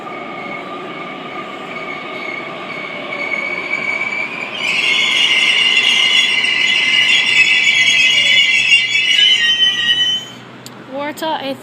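A Waratah A38 suburban electric train pulls into a station platform, its motor whine and rumble rising loud and close with high wheel squeal, then dropping away as it stops.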